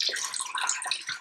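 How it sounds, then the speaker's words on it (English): Hands being washed with soap under warm running water from a tap, a close, bright rushing splash with small rubbing surges for about a second. "washing them for 20 seconds in soap itself, as I'm doing now"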